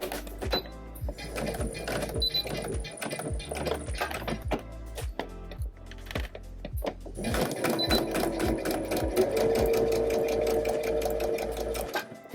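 A sewing machine stitches a 3/8-inch seam through fabric for a tank top or swim top, its needle running in a steady rapid mechanical rhythm, close and loud, with a brief pause before the stitching picks up again.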